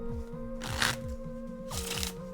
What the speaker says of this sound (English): Also give it another shuffle.